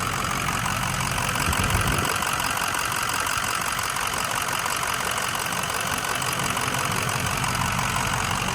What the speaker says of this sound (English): This is a nice hot engine